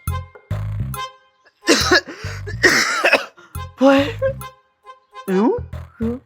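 Heavy, repeated coughing in harsh bursts with throat clearing, loud and close, broken by short pauses across the whole stretch.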